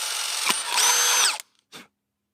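A power drill with a bit boring holes, its motor whining steadily and loud up close for over a second, then cutting off, followed by a short second burst.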